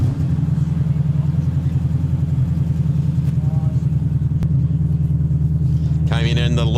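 A race car's engine at Sydney Motorsport Park in the Shannons Trophy Series drones steadily and loudly throughout, a low continuous rumble with a brief higher whine near the end.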